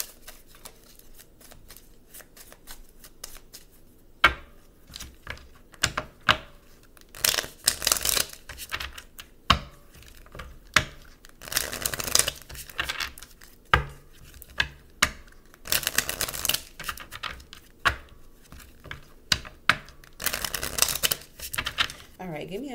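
Island Time Wellness oracle cards shuffled by hand, a long run of quick riffling, flicking and slapping bursts with sharp card snaps, close and fairly loud, with a voice talking at times between them.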